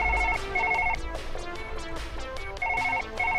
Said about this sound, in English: I'm picking up the phone!